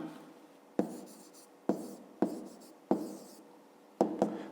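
A pen writes an answer for a fifth-grade math exercise on paper in several short, scratchy bursts, five or six quick strokes separated by brief pauses, close and quiet.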